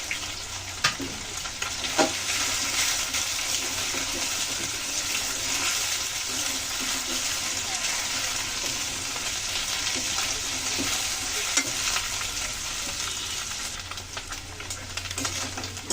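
Potatoes and green chillies frying in a pan, a loud, continuous close sizzle with occasional stirring knocks.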